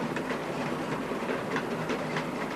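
Model railway train of the Furness line running on hidden track, a steady, close rumbling roll of small wheels with faint rhythmic clicking over rail joints, continuous throughout with no voices.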